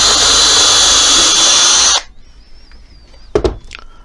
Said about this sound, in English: I'm going to use one drill hole here